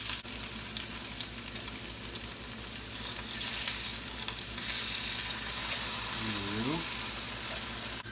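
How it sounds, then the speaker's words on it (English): Salmon fillets fry in a hot pan of browned butter and oil, a loud, steady sizzle throughout, with a brief voice-like tone near the end. "I got a nice hot pan here, a little bit of butter and a little bit of oil"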